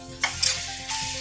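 Ginger garlic paste goes into a hot pan for gongura prawn curry, giving brief soft sizzles and a stirring scrape over a steady background hum, with no talking.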